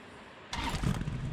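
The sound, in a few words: vehicle engine starting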